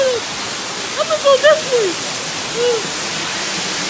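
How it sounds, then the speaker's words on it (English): A steady rushing waterfall sound effect fills a Super Mario fan animation at a zoo, continuous and fairly loud beneath a character's speech. "I love the waterfall."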